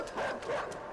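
A dog in the video game Inside gives a couple of quick, sharp yipping barks in one short, fairly loud burst.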